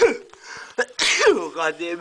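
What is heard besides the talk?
sneeze from someone allergic to something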